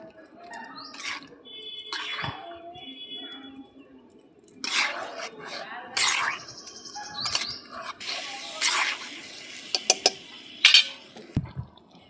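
A spoon stirs dissolved arrowroot into a pan of Bengali egg chili, giving scattered scrapes and clinks near the mic that come more often and louder in the second half, with no voices.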